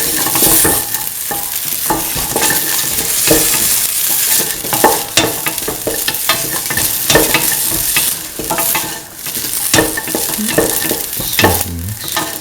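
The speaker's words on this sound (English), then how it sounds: "Slowly mix the shallots, and onion, garlic, ginger." Shallots with onion, garlic and ginger fry in a pan, sizzling loudly and continuously while a utensil stirs and scrapes in quick irregular strokes, with no speech.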